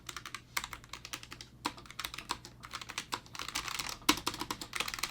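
Typing on a white Logitech G915 TKL mechanical keyboard: a quick, uneven stream of crisp key clicks and clacks, close and clear, with brief pauses between bursts and no talking.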